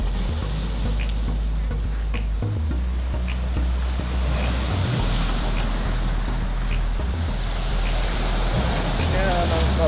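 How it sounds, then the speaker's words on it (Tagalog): Red Sea waves wash steadily along the Jeddah seaside corniche, a continuous broad surf roar mixed with wind, with a low engine rumble and faint voices in the background. "Yan ang karagatan ng Red Sea."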